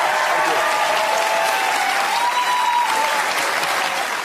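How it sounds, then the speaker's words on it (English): A studio audience on a televised talk show applauds loudly and continuously, a dense wash of clapping filling the whole stretch with a few faint whoops. "Ladies and gentlemen, a round of applause for Pete Hallier."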